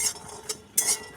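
Raw peanuts roasting in a dry pan are stirred, giving a few short, bright rattling scrapes, one brief and another longer, close by against quiet.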